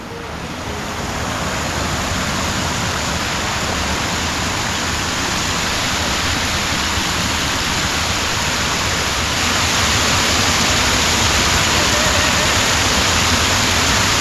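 A mountain valley stream at a forest pension in Hwacheon rushes steadily nearby, a dense, unbroken hiss of flowing water that swells slightly louder near the end, with no voices.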